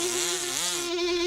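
Cartoon bees buzz in a steady, close drone with a wavering pitch that rises and dips, loud and continuous, with no talk.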